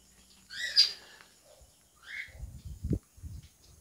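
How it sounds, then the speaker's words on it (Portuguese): An azulão (blue grosbeak) sings from a distance, giving faint, thin whistled phrases, while closer low knocks and rustles sound through the quiet. "quando esse azulão canta, o som chega lá baixinho"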